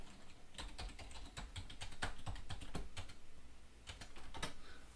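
Close, quiet computer keyboard typing, a rapid irregular run of light key clicks with a brief pause before a few final taps.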